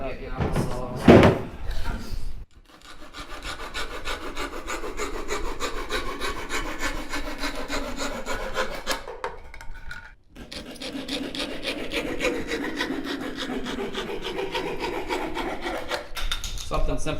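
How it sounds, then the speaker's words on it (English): Handsaw cutting a wooden board for a leg piece, with steady rhythmic rasping strokes up close for two long runs separated by a short pause, after a brief knock at the start. "Let's see if I can do this quickly with a handsaw without getting out the saw."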